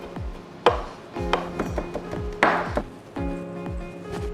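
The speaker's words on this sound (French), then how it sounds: "nous allons commencer par hacher du cerfeuil" Chervil chopped with a knife on a board, a run of about a dozen close, crisp knocks in an uneven rhythm, each with a brief ringing tail, and no voices.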